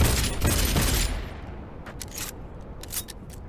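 Gunfire in Cyberpunk 2077: a loud burst of rapid shots for about a second, then a few spaced, sharper reports and clicks over a low rumbling background.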